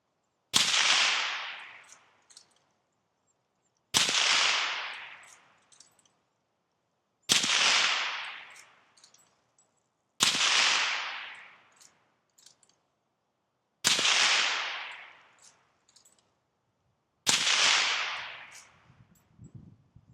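Six .308 rifle shots fired through a K-Brake ultracompact suppressor brake, heard from about 25 yards. Each sharp crack is spaced roughly three seconds apart and trails off with a short echo, with no speech.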